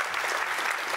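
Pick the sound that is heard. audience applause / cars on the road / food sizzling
audience applause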